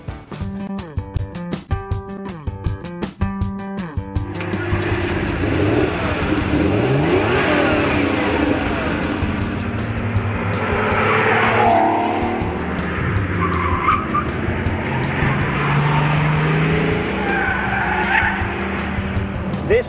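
A Porsche 911 Turbo 3.6, oil-cooled and single-turbocharged, roars loudly under hard acceleration, its engine note climbing steadily through the revs with tire and road noise mixed in, sustained and close.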